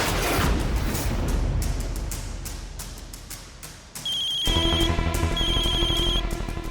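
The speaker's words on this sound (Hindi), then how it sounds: "उसी औरत का फोन है ना? उठाइए उठाइए" A phone ringing in a scene from a Hindi drama: after a few seconds of muffled background noise, a bright electronic ringtone starts abruptly and repeats in a steady pattern of tones, fairly loud and clear.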